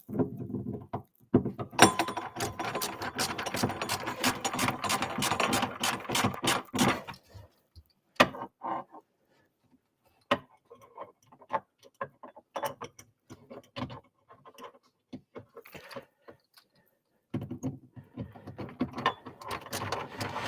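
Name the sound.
driving screws into brackets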